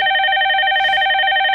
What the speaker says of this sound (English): you did hear the phone